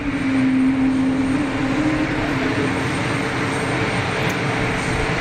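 An EasyJet Switzerland Airbus A320 rolls out after landing in a light crosswind, its clamshell thrust reversers deployed, giving a loud, sustained engine roar with a steady low hum and no talking.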